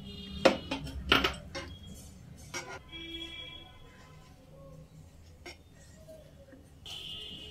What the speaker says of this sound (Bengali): এইভাবে অনবরত নেড়ে চেড়েই কাস্টার্ডটা রেডি করে নিতে হবে